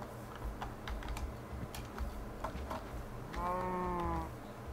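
A cow moos in the Minecraft video game, a single drawn-out, harmonic low call rising above a busy bed of clicky keyboard typing and steady game background noise.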